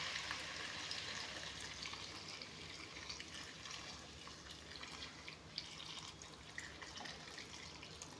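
Hot water goes into a cooking pan with fish, making a faint, continuous watery hiss and bubbling sizzle with no talk.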